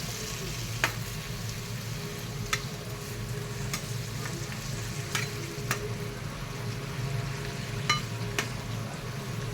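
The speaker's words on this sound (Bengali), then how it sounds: "জল দিয়ে ভালো করে কষে নেব" Potatoes and roo fish stir-frying in a pan with a little water for soup, a continuous close sizzle broken by regular sharp scrapes of the spatula against the pan, no talking.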